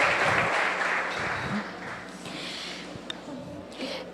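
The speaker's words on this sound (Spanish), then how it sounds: "Un aplauso al Señor, por favor, en esta mañana." Church congregation applauding during a Sunday morning service, a broad wash of clapping that is loud at first and gradually thins over a few seconds.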